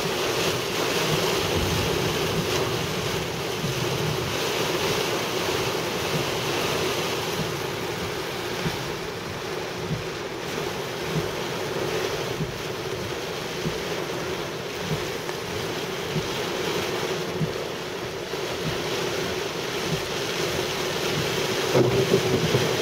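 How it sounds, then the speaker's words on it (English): Strong wind roars and buffets steadily around a car driving into a heavy rain storm, a dense, loud rushing noise that continues throughout with no speech. "Lot of wind right now."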